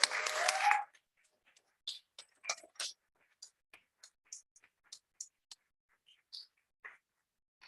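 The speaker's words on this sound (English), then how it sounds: "So let's give them another hand." Scattered, sparse clapping from a small audience at a school board meeting, beginning with a short burst and then trailing off into isolated, faint individual claps over several seconds.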